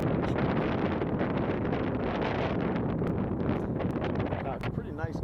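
Strong wind buffets the microphone on a hiking trail, a loud continuous rumbling roar with gusty rustling throughout, and a voice can be heard faintly beneath it.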